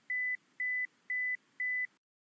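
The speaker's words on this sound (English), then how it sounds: "We are starting the buzzer, and we are doing it for 10 seconds." A lab apparatus buzzer beeps four times in a steady rhythm, each tone short and even, then stops.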